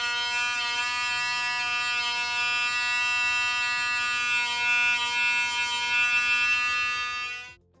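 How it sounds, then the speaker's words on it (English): A Waterpik Sonic-Fusion electric toothbrush buzzes with a loud, steady high-pitched whine held close for several seconds, then cuts off abruptly at the end. "I was surprised at just how much noise this electric toothbrush actually made"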